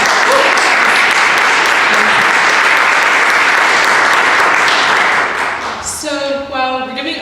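Sustained concert audience applause for a performer at a charity concert, a loud dense wash of clapping that fades near the end as a tonal sound with harmonics rises.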